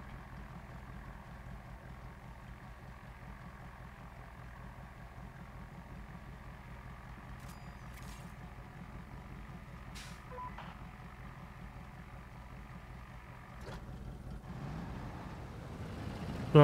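Truck in the MudRunner game Expeditions idling steadily with a low rumble, with a few faint short reversing beeps and a louder rise near the end.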